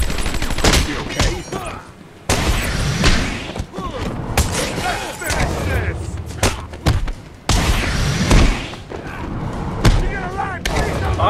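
An enemy gunman fires in the video game Batman Arkham Asylum, bursts of sharp shots and thuds that stop and start, while voices talk over the shooting.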